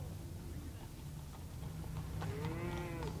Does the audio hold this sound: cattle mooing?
yes